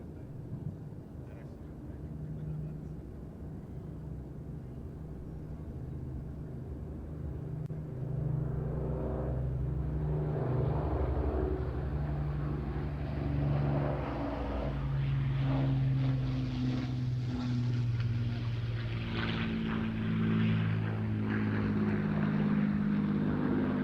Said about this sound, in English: with the Lancaster, this will probably be his penultimate, if not his final pass